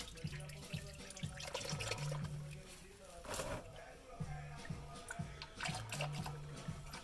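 Engine oil draining from a Jaguar F-Pace during an oil change, a steady liquid pour with a gurgling rhythm and occasional splashes, while someone talks over it.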